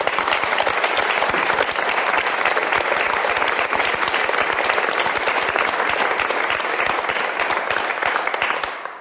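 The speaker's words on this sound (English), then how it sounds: "he deserves a round of applause as well" An audience at a music event applauds steadily for about nine seconds, a dense, even wash of many hands clapping that fades slightly at the very end.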